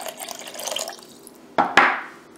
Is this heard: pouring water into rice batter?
yes